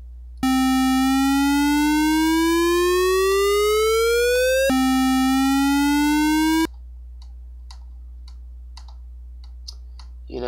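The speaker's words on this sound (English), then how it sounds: "So maybe I can try to get some kind of crude police siren sound." A crude chiptune police siren synthesized on a PSG sound chip for game sound effects: a loud buzzy tone sweeps steadily upward, resets and rises again, then cuts off abruptly, leaving near silence with faint clicks.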